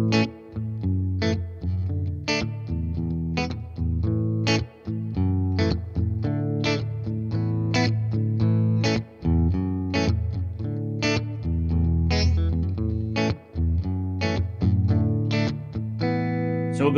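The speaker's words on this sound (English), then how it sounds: "the Super Overdrive pedal to get some overdrive and distortion on some of those tracks" Fender American Ultra Telecaster played through a Super Overdrive pedal with both pickups in parallel, giving loud, sustained distorted chords and riffs struck in a steady rhythm, with no talking.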